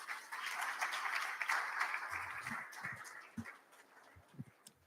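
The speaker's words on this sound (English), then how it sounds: "Please give him a round of applause." Audience at an official archival handover ceremony clapping, a moderate burst of applause that thins out into a few scattered claps and low thumps, heard at a distance.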